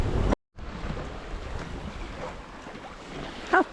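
Strong wind roars across the microphone on a sailboat passage from Tobermory to Gigha, a steady gusting rush with wave wash, broken by a brief cut near the start.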